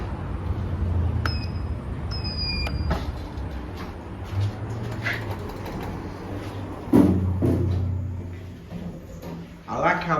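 The doors of a Schindler 5400 AP MRL traction lift in a shopping centre sound with chimes and mechanical door motor hum and clunks, mixed with background ambience and some talk.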